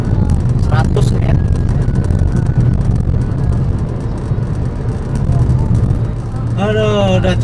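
A 2011 Nissan Grand Livina XV 1.5 manual cruising in fourth gear at around 100 km/h gives a steady road and engine rumble, with someone talking over it at the start and end.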